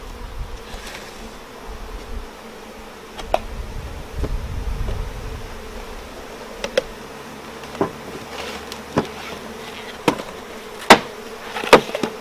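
Honeybees drone steadily inside an open hive during queen rearing while sugar syrup is poured into the feeder. The buzz is constant and low, broken by sharp knocks and clicks as the boxes are handled.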